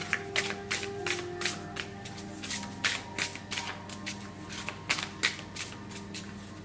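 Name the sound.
oracle cards being shuffled for a reading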